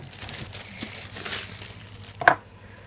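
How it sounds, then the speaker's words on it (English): A SoundSOUL aromatherapy essential oil diffuser is lifted out of its packaging, with soft rustling and crinkling close by and one sharper crackle near the end. "Let me just take this out of the packaging first for you guys."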